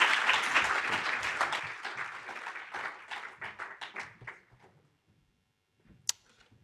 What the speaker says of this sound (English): We can give them another hand of applause,